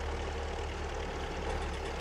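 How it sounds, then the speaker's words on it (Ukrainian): Combine harvester engine in Farming Simulator 22 arriving, heard as a steady, low, muffled diesel drone at moderate distance with no talk over it. "Комбайн під'їхав."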